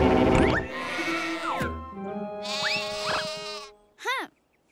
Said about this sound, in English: Hey, sheep, listen.